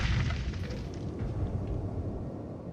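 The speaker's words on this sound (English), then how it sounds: "Another explosion and shake." A heavy explosion sound effect from a tabletop role-playing session, a deep, rumbling boom that sustains and slowly fades across the clip, with no voices.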